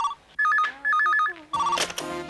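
An electronic telephone ringtone in a Hindi TV family comedy household chirps in quick repeating two-tone trills, loud and near, with a brief burst of other noise toward the end.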